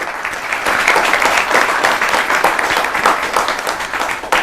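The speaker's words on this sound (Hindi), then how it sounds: "एक बार जोरदार तालियां बजाइए आपके बीच में डॉक्टर ममता वासने के लिए" Loud, dense applause from a Holi kavi sammelan audience welcoming a woman poet to the stage, many hands clapping steadily throughout at close range with no voices heard.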